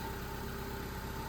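A Mitsubishi Lancer 1.8L 4G93 engine idles steadily, an even low rumble with a faint whine, close and constant with no talk.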